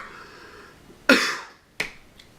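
Two sharp, close coughs from one person, the first loud and the second softer about half a second later, in an otherwise quiet room.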